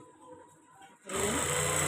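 A sewing machine starts up partway through and stitches a shirt in a steady, loud whir after a quieter opening with faint background sounds.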